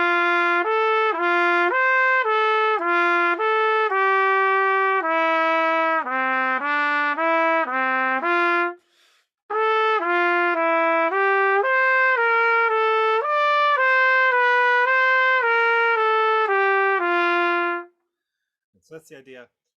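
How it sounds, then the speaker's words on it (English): A C trumpet plays Arban exercise number 11 slurred, a loud, close run of smoothly connected notes. There is one brief pause for breath partway through, then the line ends and a faint sound follows. "I'm just playing my C trumpet today because it's what I have out"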